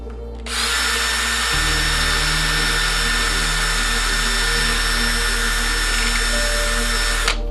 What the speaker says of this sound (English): I find the best way to do that is to drill